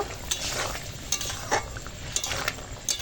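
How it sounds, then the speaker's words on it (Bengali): A spoon stirs garam masala powder into a potato curry with paneer and makhana in a pan, giving soft repeated scraping strokes and light clinks over a faint steady sizzle. "এখন দিয়ে দেবো ওপর দিয়ে গরম মশলার গুঁড়ো ভালো করে মিশিয়ে নেব"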